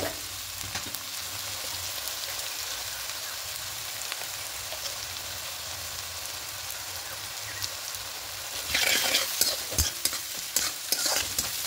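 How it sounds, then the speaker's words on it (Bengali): Onions frying in a pan for a milk chicken dish, a continuous close sizzle that grows louder and busier near the end as they are stirred and scraped. "এবার হালকা করে একটু পেঁয়াজগুলোকে ভেজে নেব"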